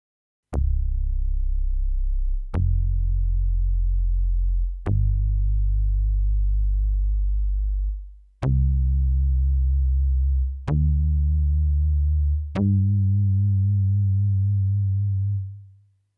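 Four-operator FM synth bass plays six plucked notes, each a sharp attack that settles into a deep, round, sustained tone, stepping through a short low-pitched phrase with clean silence between hits.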